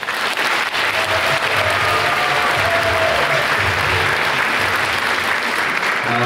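Loud, sustained applause from a large audience honouring gymnasium number 3, a dense wash of clapping with no break, heard close and alone.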